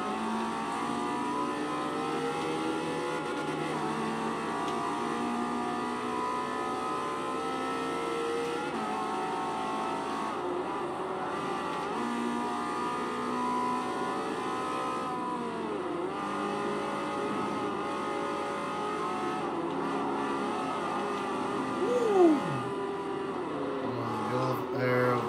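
A Ferrari 360 Modena racing flat out around the Nurburgring in Forza 4, its engine note steady and loud through gear changes as it threads past slower traffic, with no talk over it.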